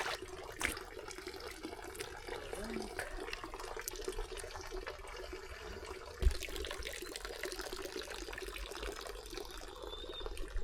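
Cold spring water high on Ajoba mountain trickles and splashes steadily, faint and close, with one brief louder knock partway through.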